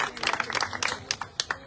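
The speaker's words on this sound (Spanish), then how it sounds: "un aplauso muy fuerte para todos los niños y las niñas que están aquí presentes" Scattered applause for children at a summer course launch in a Villa de Álvarez neighborhood, brief uneven claps from a small crowd rising and fading in quick bursts.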